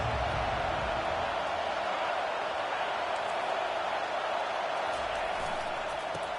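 Football stadium crowd roaring steadily as the defense pins the opponent deep in its own end, a dense, sustained wash of cheering and noise that continues unbroken from start to finish.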